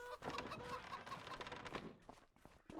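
Chickens and ducks on a farm in Farming Simulator 25, giving a busy, continuous run of clucking and squawking calls close by, overlapping with no talk.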